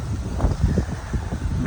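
Sea wind in the Maldives gusts across the microphone in a steady low rumble with soft buffeting pulses, loud and close, with no voices.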